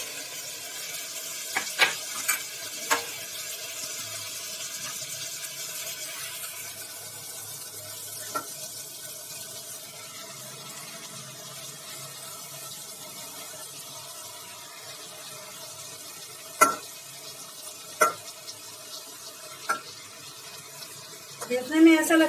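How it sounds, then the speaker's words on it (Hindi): Mutton and spinach cook in a pan as radish and spinach go in: a soft, steady sizzle runs throughout, punctuated by scattered clinks and scrapes of a stirring spoon, with a few louder knocks near the end. "तो अब यहाँ पर हम मूली डाल देंगे और पालक डाल देंगे।"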